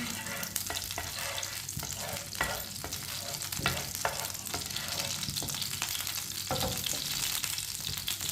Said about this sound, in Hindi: घी को मैंने गरम कर लिया, आप देख सकते हैं